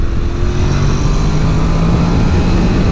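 A Honda NC750X motorcycle engine revs hard in second gear up to the red line, a loud, steady drone with a rising tone, heard up close and continuous without talk.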